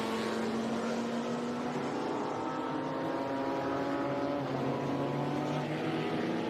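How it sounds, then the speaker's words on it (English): A Mazda four-rotor Wankel race car at a motorsports reunion gives a loud, continuous, buzzing engine note that holds steady and drifts slightly in pitch as it runs past on track. "the four-rotor Mazda Wankel engine. Very distinctive sound."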